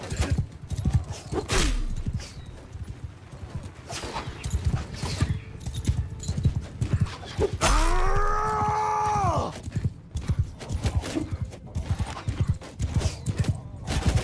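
Galloping hooves clip-clop steadily from a horse in the battle game Mount and Blade II Bannerlord, with a loud neigh rising and falling midway and scattered battle noise around it.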